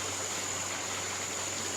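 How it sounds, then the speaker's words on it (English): Water sprays steadily over newly planted perennials in a garden bed, a continuous soft hiss with no pauses and no voices. "So we're just going to water these in,"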